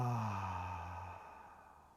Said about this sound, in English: Take an inhale. Let out the sound. Ha, H-A-A, ha.